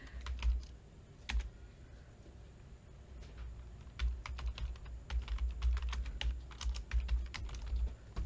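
Someone types an address on a computer keyboard in irregular bursts of close, crisp key clicks, with brief pauses between runs.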